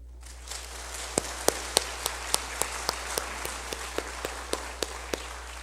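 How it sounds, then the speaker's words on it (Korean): Clapping from an Easter union worship congregation in Ulju County, heard as a series of sharp, evenly spaced claps that stand out over a quiet room with a low steady hum, moderately loud and regular in rhythm. "박수 한번 쳐요."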